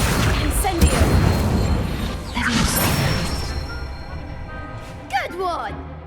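Accio and Incendio spells are cast in Hogwarts Legacy with whooshing magical bursts and crashing impacts. A fiery crackle rises, then a sharp final hit lands, with voices heard alongside.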